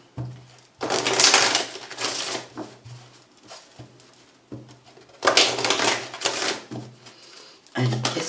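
A deck of tarot cards being shuffled by hand in two long rustling, riffling bursts with a brief pause between them, close up, over a low steady hum.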